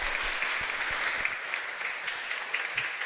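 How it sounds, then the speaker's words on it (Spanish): A church congregation at Mass in a chapel claps together, a dense, steady round of applause that holds evenly throughout with no break. "Un fuerte aplauso entonces para el Señor."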